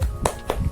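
A school class doing the "tepuk semangat" spirit clap, three or four sharp claps in quick rhythm, close and fairly loud, with no voices.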